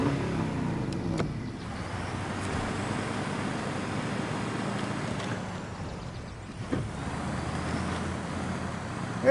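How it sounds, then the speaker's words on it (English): A truck engine drives in a video game, a steady, moderately loud motor drone with rushing wind-like noise that dips briefly midway and swells again toward the end. "Hey, nice truck."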